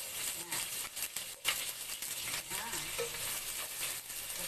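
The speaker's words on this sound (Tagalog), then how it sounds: "unahin natin igisa ay sibuyas" Onions sautéing in a pan for a healthy vegetable dish, a steady close sizzle and frying hiss with light stirring scrapes throughout, no talking over it.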